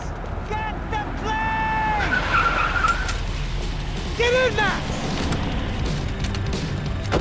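Car driving and skidding in the video game Max Payne 3, engine drone with several tire squeals and skids over the first half, layered under game dialogue and background noise.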